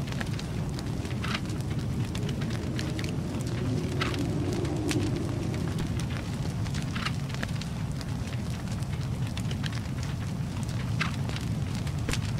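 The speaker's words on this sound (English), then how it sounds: "That's always good, a nice bin fire." Fire burning in a bin in H1Z1, a steady crackling and popping over a low rumbling roar, constant and fairly close throughout.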